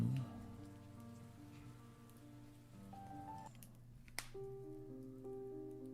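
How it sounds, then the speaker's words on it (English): Steady rain falls and patters on a surface, a continuous even hiss close by with a few sharper drips, and no voices. "this one is rain"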